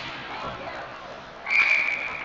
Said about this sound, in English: whistle there.